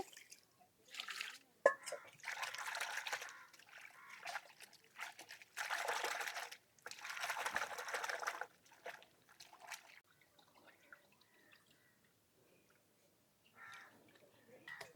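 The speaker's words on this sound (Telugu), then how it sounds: "నీళ్ళు పోసేసి ఒక రెండు మూడు సార్లు బాగా కడిగేసుకుందాం అండి" Fish pieces rinsed in a bowl of water two or three times, with bursts of sloshing, trickling water in several close, separate washes and quieter pauses between them.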